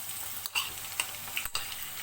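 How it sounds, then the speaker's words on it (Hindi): Ginger garlic paste hits browned onions frying in a pan for mustard greens saag, giving a steady soft sizzle with a few spoon scrapes and taps against the pot, close and moderate, without voices. "प्याज ब्राउन हो चुका है, ये हम अदरक लहसुन का पेस्ट डाल रहे हैं।"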